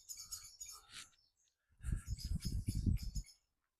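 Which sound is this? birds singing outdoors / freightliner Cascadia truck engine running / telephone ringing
birds singing outdoors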